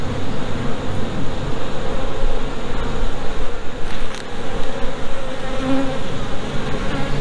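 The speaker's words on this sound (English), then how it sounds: "Here's some bees that are hatching out here" Honey bees buzz densely inside an open hive box, a continuous close swarm hum with no voices over it.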